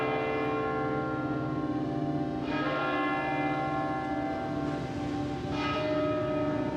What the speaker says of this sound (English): the clamorous bell spake out right well to the hamlet under the hill.